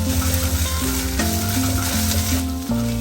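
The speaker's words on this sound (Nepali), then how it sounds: "सानो ग्यासमा भुटिरहनुपर्छ, चलाउँदै भुट्नुपर्छ" Churpee and ninguray fern shoots stir-fried in a pan on a low gas flame, a steady close sizzle throughout with sustained tonal hum underneath.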